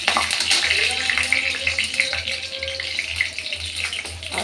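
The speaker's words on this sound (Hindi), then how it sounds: "इसको हम थोड़ा सा फ्राई करेंगे।" Whole garam masala spices (green cardamom, cloves, black pepper and cumin) fry in hot oil in a pan, giving a steady, loud sizzle with a continuous hiss.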